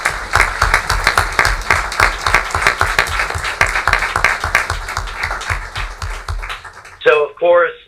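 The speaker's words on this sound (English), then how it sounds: "I think everybody should give them a round of applause" Applause at a township council meeting, a room of people clapping steadily for several seconds before it fades and a voice begins speaking.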